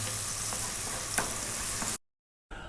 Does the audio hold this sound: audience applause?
no